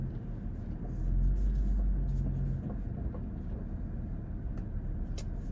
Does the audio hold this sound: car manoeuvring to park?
yes